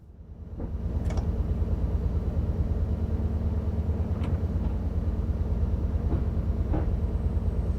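A Voyager Class 220 diesel train runs steadily in Train Sim World 6, a constant low engine rumble and rolling hum with a few faint clicks and bumps from the track, alone and without talk.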